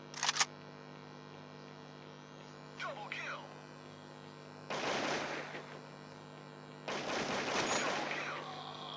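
Gunfire in the FPS shooter Crisis Action comes in short bursts over a steady electronic hum. A brief burst opens, followed by two longer, louder volleys of rapid shots.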